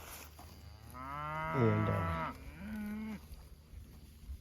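Cattle in a drought-stricken pasture let out one long, loud moo and then a shorter lower one, fairly close, with a brief spoken word in the background.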